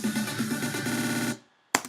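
A short dense musical sample played dry with reverb off cuts off abruptly with no tail, followed by silence and a brief loud hit at the end.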